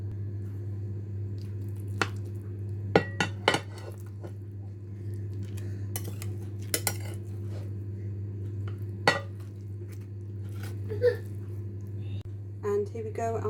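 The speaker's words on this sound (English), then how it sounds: "I'm going to now plate these up." Baked enchiladas are served onto dishes with a handful of sharp utensil clinks and scrapes, spread unevenly over a constant low kitchen hum.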